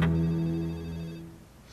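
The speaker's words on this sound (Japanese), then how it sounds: "さあ、とりあえず電話、多分ママからだわ、きっと。" A telephone rings in the Ju-on horror video game, a loud steady electronic tone with layered harmonics that holds for about a second before fading out.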